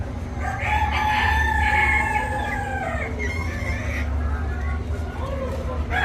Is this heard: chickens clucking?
yes